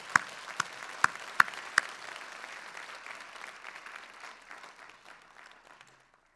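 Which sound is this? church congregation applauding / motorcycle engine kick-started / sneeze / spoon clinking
church congregation applauding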